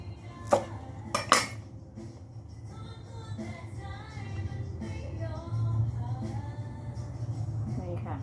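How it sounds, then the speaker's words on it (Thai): Several sharp knife chops slicing taro in half on a board, a few distinct clicks early on, then steady low kitchen hum with faint clatter. "มาหั่นครึ่งอย่างนี้นะคะ"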